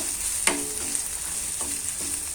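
Curry leaves, green chillies and ginger-garlic paste fry in hot oil on a village stove, a constant close sizzle with a few sharp clinks of a stirring spoon against the pan.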